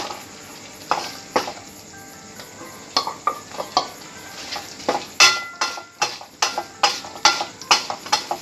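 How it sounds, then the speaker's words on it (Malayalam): Cut pineapple tipped into a pan and stirred for pickle over a medium flame, with a soft sizzle underneath irregular, sharp scrapes and clinks of a spoon against the pan, growing busier toward the end. "ഇനി നമുക്ക് ഇത് കട്ട് ചെയ്ത് വെച്ച പൈനാപ്പിൾ ഇതിലേക്ക് ഇട്ട് കൊടുക്കാം"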